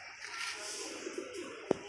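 Pigeons kept by a pigeon fancier coo softly at a distance in low, faint murmurs against a hushed background, with one sharp click near the end.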